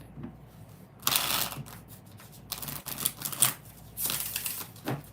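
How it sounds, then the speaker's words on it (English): An oracle card deck is shuffled by hand in bursts of riffling, papery flutter, close and fairly loud, starting about a second in and recurring several times with brief pauses. "Six shuffles."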